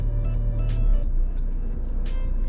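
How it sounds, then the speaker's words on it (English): A car's petrol engine gives way to a quiet electric motor as the vehicle switches to battery power, leaving a steady low hum and soft road rumble close by with no talk. "listen to how quiet it gets once I turn on the electric vehicle motor"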